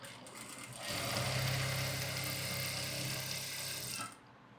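Steady mechanical whir of a sewing machine stitching elastic onto a pair of pants, running loud and close for about three seconds before cutting off.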